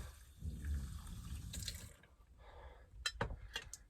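Tap water running into a sink to rinse cooked pasta in an RV kitchen, a steady close splash that breaks up toward the end into a few sharp clinks and drips.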